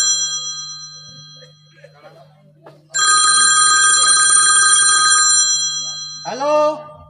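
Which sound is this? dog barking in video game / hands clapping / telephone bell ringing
telephone bell ringing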